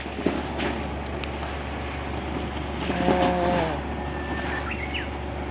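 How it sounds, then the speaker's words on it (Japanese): Forceful water gushes from a newly dug well in the woods of Niseko, Hokkaido, a loud, steady rushing roar with a constant low mechanical hum beneath it and no speech. "かなり勢いのある水で"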